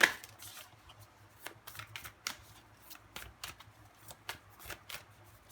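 Tarot cards shuffled by hand in a quiet room, a rapid series of soft crisp riffles and slaps that come in uneven bursts for several seconds, close up and alone, with no voice over them.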